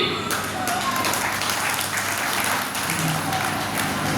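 A crowd applauding, dense and continuous clapping that fills the whole stretch at a steady loud level.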